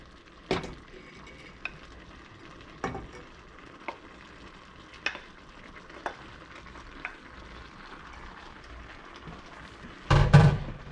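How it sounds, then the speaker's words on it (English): Ground beef and vegetables sautéing for chili, a quiet steady sizzle broken by a spoon knocking against the pot every second or so, ending in a louder scrape and clatter. "all the vegetables saute and get primarily cooked, we're gonna add back our ground beef."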